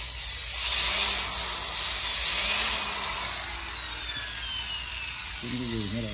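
Power drill running in hammer mode, a steady high-pitched whir with rattling hammer action, fairly close and moderately loud, with a brief speaking voice near the end.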